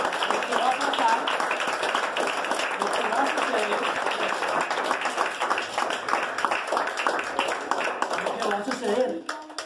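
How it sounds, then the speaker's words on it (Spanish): A congregation applauding during a religious teaching gathering, moderately loud continuous clapping lasting nearly the whole stretch with voices mixed in beneath it. "¿Cuánto le pueden dar un aplauso en este momento al Padre?"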